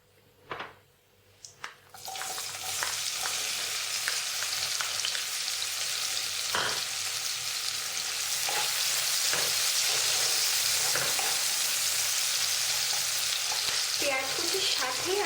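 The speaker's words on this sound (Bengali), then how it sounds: "এবার আমি এর মধ্যে এই পেঁয়াজ কুচিটা ঢেলে দেব।" Chopped onion poured into a hot pan with cumin and dried chili, a loud steady sizzle of frying that starts abruptly after a few clinks and keeps hissing with occasional stirring scrapes.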